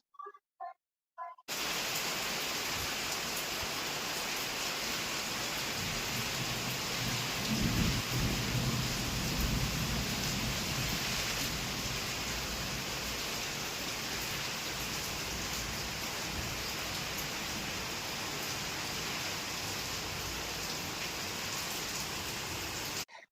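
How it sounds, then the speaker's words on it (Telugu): Heavy rain driven by strong wind, a dense continuous roar with low thunder rumbling through it, steady and loud for the whole stretch. "డేలో ఏదో ఒక పూట విపరీతమైన గాలి వీస్తూ ఈ విధంగా వర్షం పడుతుంది"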